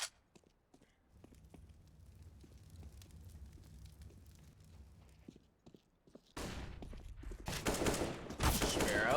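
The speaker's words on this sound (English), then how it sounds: "returning fire there, hits the long range AK-47 headshot" AK-47 fire in a Counter-Strike match: after several seconds of quiet game ambience with faint steps, loud rapid bursts of rifle shots erupt and continue to the end.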